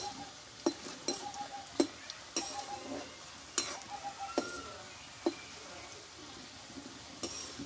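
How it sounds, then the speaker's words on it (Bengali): Homemade tomato chips fry in a pan with a soft continuous sizzle, broken by repeated sharp scrapes and taps of a spatula stirring against the metal, fairly quiet and close. "চিপসগুলো ভাজতে হবে একটু"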